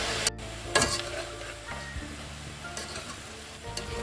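Tomatoes and other chicken curry ingredients sizzle and fry in a pan over high flame, a continuous crackling hiss broken by several sharp scrapes and clatters of stirring, with no voices.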